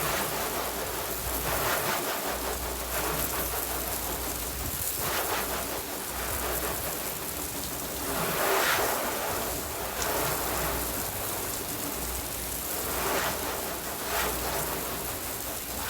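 Water sprays steadily onto a flat car paint panel, a continuous hissing patter like rain with gentle swells in intensity and a faint low hum underneath.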